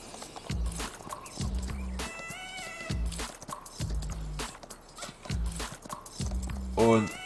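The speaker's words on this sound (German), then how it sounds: "So, wir bringen das Pferd." Horse hooves clip-clop in Farming Simulator 19 in short, repeated bursts of dull thuds, with meow-like and whinny-like tones mixed in, under a game soundtrack.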